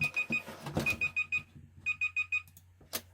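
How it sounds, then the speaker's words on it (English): An alarm clock goes off with bursts of rapid high beeps, several short pulses per burst and brief pauses between, over a low steady hum, ending with a sharp click. "And there's the alarm."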